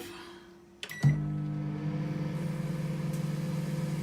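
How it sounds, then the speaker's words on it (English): A domestic microwave oven hums steadily after a click starts it, with a grape inside making plasma; the low, even drone carries a faint buzzing texture and no voices. "press the start button and just watch the microwave inside"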